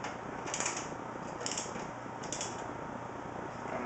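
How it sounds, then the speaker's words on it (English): A screw drives itself into a plastic computer case fan with soft, repeated ratcheting creaks at a steady pace. The sound is close and sits over a constant background hiss. "Once you get them started, you'll feel it catch, let go and let it screw itself in."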